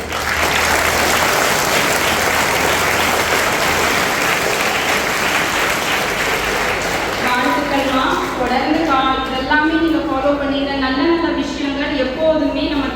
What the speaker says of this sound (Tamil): எல்லா பிள்ளைங்களும் நல்லா கவனிச்சதுக்கு ஒரு கைத்தட்டல்.